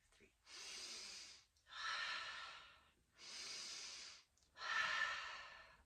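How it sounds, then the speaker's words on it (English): Slow paced breathing exercise: four long, steady breaths alternating in and out, each lasting about a second, close and soft with no speech. "you're going to breathe in 2, 3,"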